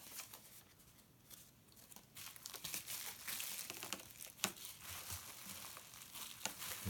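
Crinkling and crumpling of bubble wrap being unrolled from around three packaged bottles of CBD hemp oil, a steady close rustle with a few sharper crackles and one brief louder pop.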